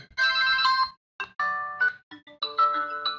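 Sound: smartwatch incoming call ringtone

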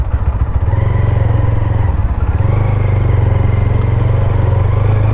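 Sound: motorcycle engine running

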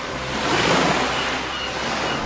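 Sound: sea waves in radio advertisement

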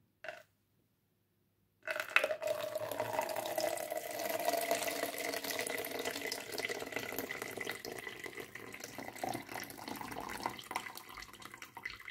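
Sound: excess water draining from orchid pot

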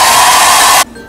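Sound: bronze satin hair blow dryer on high setting

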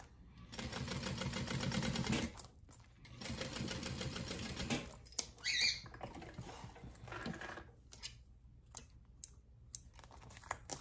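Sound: sewing machine stitching a crossbody bag seam

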